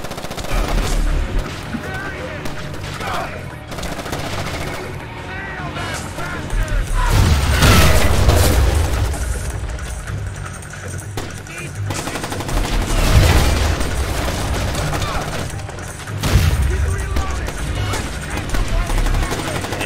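Sustained gunfire in Splinter Cell: Chaos Theory, loud automatic bursts and heavy booms rolling in waves over game music and mechanical clatter for the whole stretch, with occasional voices underneath.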